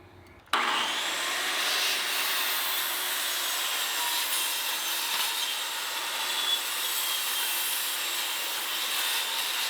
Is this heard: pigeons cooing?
no